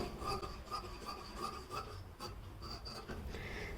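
Scissors cutting the back part of a velvet umbrella frock, giving repeated short rasping snips and rubbing in an irregular rhythm, close and fairly quiet, with no talk.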